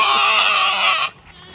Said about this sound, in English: I uploaded the clip of a goat sounding crazy